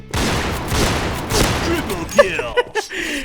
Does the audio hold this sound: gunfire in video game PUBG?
yes